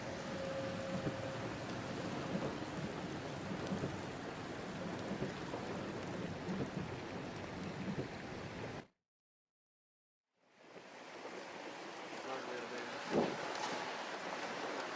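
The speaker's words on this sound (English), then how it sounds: "Starting to storm pretty good." Rain falls steadily outdoors during a thunderstorm in a tornado-damaged area, a dense hiss throughout with a brief gap of silence midway and a faint low rumble near the end.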